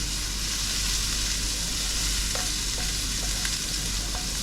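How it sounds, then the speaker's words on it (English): Garlic frying in vegetable oil in a very hot pan, a steady loud sizzle running throughout with a few faint clinks of stirring. "So I just want to fry the garlic off just a little bit."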